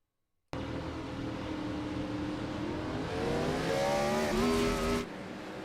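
Race car engine in the iRacing NASCAR game at Bristol, a loud, continuous drone that climbs in pitch as it revs up, then drops abruptly near the end.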